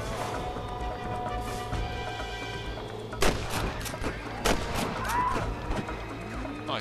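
Gunshots in the Red Dead Redemption video game: a few sharp shots ring out over a steady ambient background, with brief voices in between.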